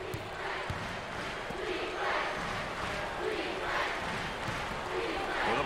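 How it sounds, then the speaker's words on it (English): Basketball arena crowd at an NCAA ACC Tournament semifinal between Syracuse and Duke, cheering in a steady loud roar with swelling waves of noise throughout. "Oh, there's all kinds of people standing and cheering and going wacky."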